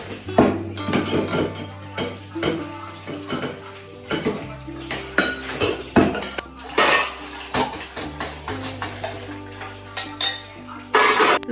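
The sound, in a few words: washing dishes, pots and cutlery in a kitchen sink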